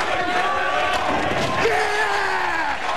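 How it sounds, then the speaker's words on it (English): A bowling crowd at a Brunswick TPC televised match chants a player's name, a loud, continuous mass of voices and cheering that fills the space throughout. "the crowd plays no favorites as they're chanting Steve"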